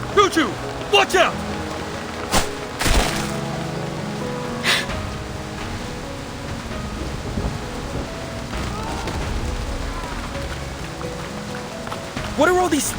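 A stormy downpour in the video game Reverse: 1999 hisses steadily, broken by several sharp cracks and thumps of thunder-like impacts, with voices briefly under it.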